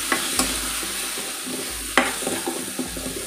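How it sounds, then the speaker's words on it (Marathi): Onion and potato pieces stirred and sautéed in a pan for a spiced Konkan-style amti, a steady low sizzle with scraping stirs and utensil clinks at a few points, close and alone. "आता आपल्याला हे मिक्स करून घ्यायचं आहे."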